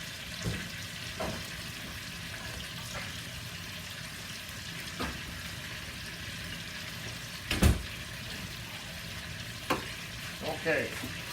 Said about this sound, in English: this searing here also gonna add some good flavor to your pot here